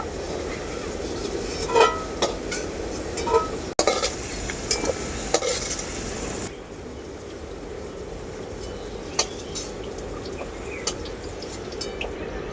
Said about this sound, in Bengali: মশলাটাকে আমি খুব ভালো করে ভেজে নিয়েছি তেলে